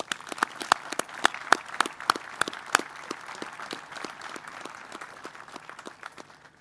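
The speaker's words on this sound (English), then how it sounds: "Please join me in another round of applause for the Waldhausers." Applause from an audience at a military change of command ceremony, a burst of distinct claps that is strongest early and thins into sparser, fainter clapping as it dies away.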